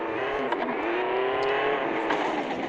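Car engine from the mobile game Car Parking, a steady humming drone with slight revving and a whirring rise and fall, close and continuous with no talking.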